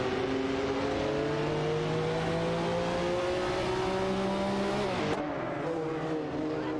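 A Porsche 911 GT1 and a Ferrari F50 GT race in a video game, their engines holding loud steady drones that climb slowly in pitch, then a sudden shift near the end as one engine note drops.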